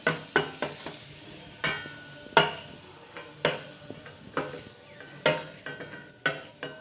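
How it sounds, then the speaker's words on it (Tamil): Raisins fry in ghee in a pan for aval payasam (poha kheer), a soft sizzle under sharp, repeated spoon scrapes and taps against the metal, close by and with no talking. "இதுலேயே வந்து திராட்சை போட்டு வறுத்து எடுத்துக்கலாங்க"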